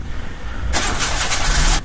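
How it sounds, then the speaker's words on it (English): Car engine in the video game Mermaid Swamp trying to start, a loud burst of cranking noise that holds for about a second and then cuts off. "I'll try the engine."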